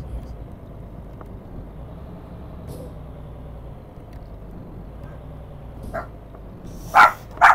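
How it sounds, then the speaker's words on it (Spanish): Two short, loud barks from dogs inside the Euro Truck Simulator 2 truck game come near the end, after a low steady engine rumble with a few faint thuds. "todos los perros están ladrando"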